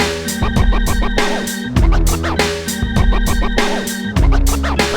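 Theme music from a Mario game, a tune echoing a theme from another Mario game, plays loudly with a bouncy repeating melody, rapid staccato notes and regular percussive hits, with no voices.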